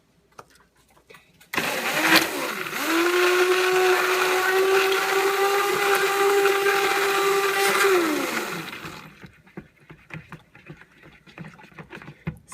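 An immersion blender whirs steadily for about seven seconds while mixing cold process soap batter, starting abruptly, humming loud and close, then winding down and stopping.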